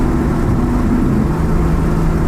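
Turbocharged BMW 135i CSL engine of over 400 hp, a low rumbling drone heard from inside the car as it drives, steady and loud with no talk.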